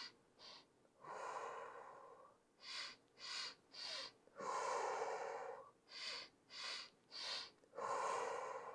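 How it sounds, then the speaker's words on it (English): Deep breaths during an energizing mindfulness exercise, strong drawn-out inhales and exhales through the nose in a quick rhythmic series, close and clear with no talking. "Inhale. Exhale, inhale,"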